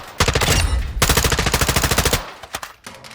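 Loud automatic gunfire in Modern Warfare 2 rattles off in two rapid sustained bursts, then a few scattered single shots.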